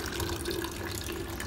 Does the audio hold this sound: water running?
yes